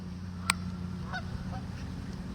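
A few faint geese honking at a distance, brief calls scattered over a low steady rumble, with a sharp click near the start.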